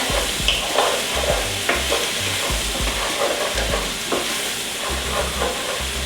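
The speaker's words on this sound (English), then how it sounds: "give this a little stir" Beef stroganoff is stirred in a hot pan, a loud continuous sizzle with scraping utensil strokes and soft thuds up close.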